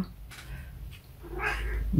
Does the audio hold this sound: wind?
no